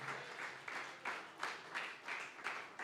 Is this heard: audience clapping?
yes